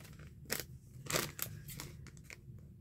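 Scissors snip along the edge of a paper page in a handmade Alaska travel journal, a few crisp cuts with crinkling paper handling between them, close and fairly quiet.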